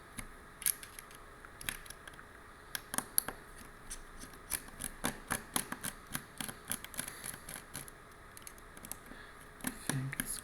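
A small screw being worked out of the corner of a GoPro Hero 11 camera body, heard as a run of quiet, crisp clicks and ticks at close range with no talking.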